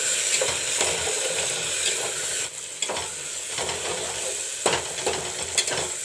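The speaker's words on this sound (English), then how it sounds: "Let the chopped tomatoes fry a bit along with the onions." Chopped tomatoes fry with browned onions in a pan, giving a steady close hiss and sizzle broken by several sharp scraping stirs of a spatula.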